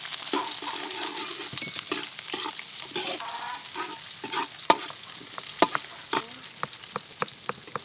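Onions sizzle steadily in a frying pan for Filipino kinamatisang pork belly, with a spatula scraping and stirring in sharp clicks that come more often toward the end. No one speaks.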